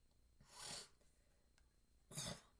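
A person recovering from illness clears their throat twice in quick, rough bursts, close to the microphone, with quiet pauses between them.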